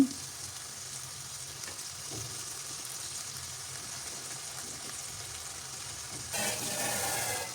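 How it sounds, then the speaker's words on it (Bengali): Spiced vegetables with salt being sautéed and stirred for a Bengali fish curry of tatkini fish, with a steady close sizzle and occasional spoon scrapes throughout, a louder burst of frying near the end, and no talk. "লবণ দিয়ে ভালোভাবে নাড়াচাড়া করে মিশিয়ে"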